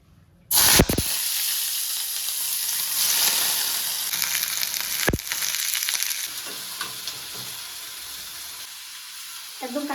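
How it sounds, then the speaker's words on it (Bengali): Oil heating in a kadai erupts into a loud, close, steady sizzle that holds for several seconds, with a sharp knock partway through and the frying easing slightly toward the end. "এখানে কড়াই বসিয়ে দিয়ে তেলও দিয়ে দিলাম"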